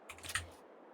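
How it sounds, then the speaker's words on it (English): A short, quiet burst of computer keyboard typing: a few soft key clicks clustered in under a second, then silence, during Farming Simulator 22 play. "I know you guys can hear the keyboard."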